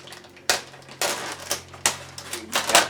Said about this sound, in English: Got the bag cut.